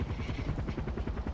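Helicopter in the Far Cry 4 video game, a steady rhythmic rotor chop throbbing low and continuous with no talk over it.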